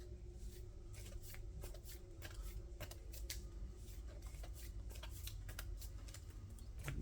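A deck of trading cards is riffled and cut on a table, a fast papery flutter of snapping cards running steadily for several seconds at close range.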